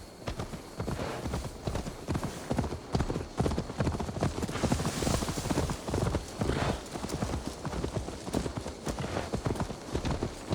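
A horse's hooves clip-clop in a fast, continuous gallop in Assassin's Creed Valhalla, close and fairly loud throughout with no pauses, and little else over it.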